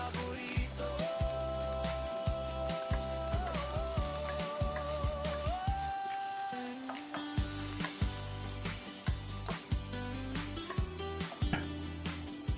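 Chopped ginger sizzles steadily in hot oil in a pan, starting a sauté for Filipino ginataang tilapia. A dense, continuous crackle runs the whole time under a melodic background tune.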